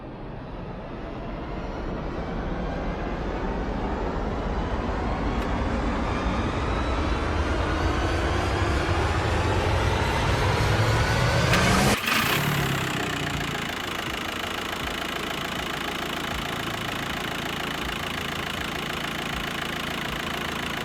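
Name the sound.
car engine starting and idling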